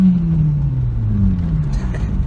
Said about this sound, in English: So yeah, the car obviously it sounds awesome.